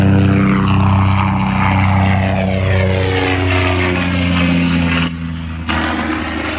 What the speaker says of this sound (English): We got a helicopter flying over.